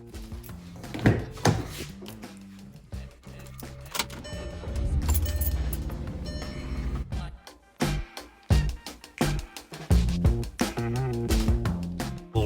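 A car being driven to a fast-food restaurant: a low, steady engine and road rumble with clicks, key jangles and cabin rattles, close and moderately loud, with no talk.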